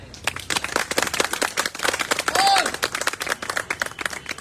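Crowd clapping at a teachers' recruitment protest sit-in in Lucknow, a dense burst of many hands with shouts and chatter mixed in, steady for several seconds and fairly loud.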